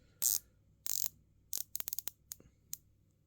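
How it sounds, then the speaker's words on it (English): Unidirectional bezel of a Christopher Ward Trident C60 Pro 300 bronze diver watch being turned, crisp close ratcheting clicks in short bursts and quick runs, separated by near silence. "the bezel is, I think, 120 clicks"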